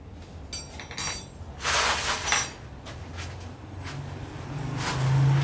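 Metal tools tighten the four clutch spring bolts on a Winner 150 motorbike, giving scattered sharp metallic clinks and scraping, moderately close, with no talk.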